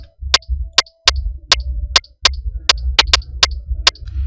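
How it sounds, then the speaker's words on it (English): A reggaeton drum-kit hi-hat ticks in a quick, irregular pattern of about a dozen crisp hits. It plays over a low, thumping pulse, and there is no talking. "I played the hi-hat."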